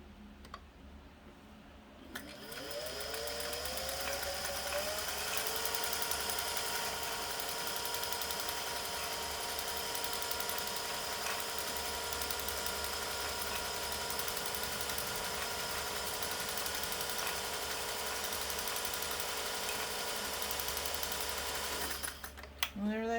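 A Singer 500a sewing machine runs a steady stitch for about twenty seconds, a continuous close whirring hum with a fine rapid ticking of the needle, starting and stopping cleanly with no talking over it.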